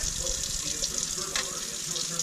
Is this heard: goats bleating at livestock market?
no